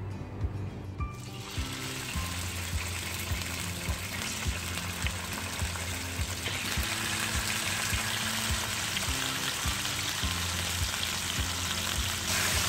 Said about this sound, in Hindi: चिकन को अच्छी तरह से फ्राई करें। मीडियम आंच से हमें चिकन को फ्राई करना है।